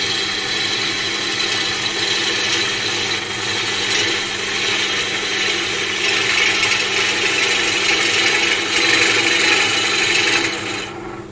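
A bowl gouge cuts African blackwood spinning on a lathe, producing a loud continuous rasping, scraping sound over the motor's steady hum, close up and unbroken until it eases off at the end.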